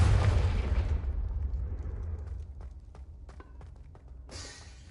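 A Confringo fire spell explodes in the video game Hogwarts Legacy, a loud low boom with a broad blast that decays over about a second, followed by a softer rumbling tail, scattered small clicks and a brief hiss near the end.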